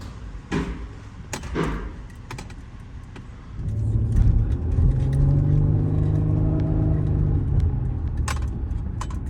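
A 2011 Nissan Murano, just repaired after a no-crank fault, makes a few light clicks and thumps, then its engine starts about halfway through and runs on with a close, steady, smooth rumble.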